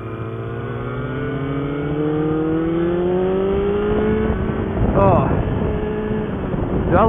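A Kawasaki ZZR motorcycle engine climbs in pitch as it revs, a loud, smooth rising whine building over several seconds, with a brief voice cutting in near the end.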